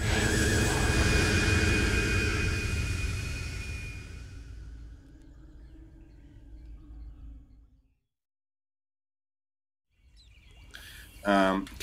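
Flying jetpack-style enemy soldiers in Metal Gear Solid 3 give a loud, roaring jet-like rush that slowly fades into near silence, followed by a short burst of chirpy sounds at the end.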